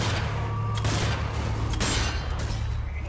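Loud gunfire from a video game, a few sharp shots cracking out in quick succession over a steady low rumble, with no talking.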